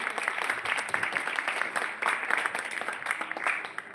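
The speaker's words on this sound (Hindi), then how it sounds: "जोरदार तालियां सर के लिए" An audience at a school function applauds a guest speaker arriving on stage, a dense and even patter of many hands clapping continuously, moderately distant and soft.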